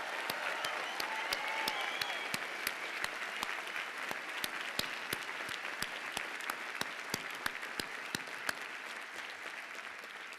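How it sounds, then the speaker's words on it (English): Sustained applause from a large crowd at a graduate commencement ceremony, dense and steady throughout, with sharp individual claps standing out now and then. "Let's start with a big round of applause for everyone earning a degree today."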